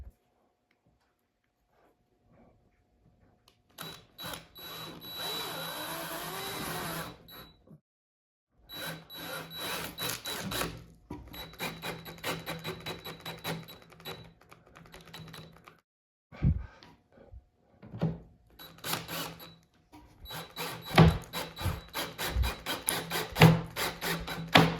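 A self-drilling plastic hollow wall anchor is driven into drywall with a number 2 Phillips screwdriver, heard as close, intermittent grinding and rasping twists in short bursts separated by brief pauses, after a quiet opening.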